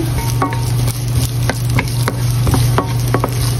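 Chopped garlic sizzles steadily in a hot frying pan with an ongoing crackle and hiss, with a few spatula scrapes and taps against the pan.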